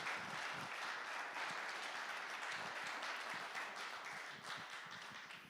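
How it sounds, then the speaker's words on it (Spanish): Congregation in a church service applauding steadily, a dense, sustained wash of many hands clapping that holds for several seconds and tapers slightly toward the end. "Démosle un aplauso al Rey, bendito su nombre."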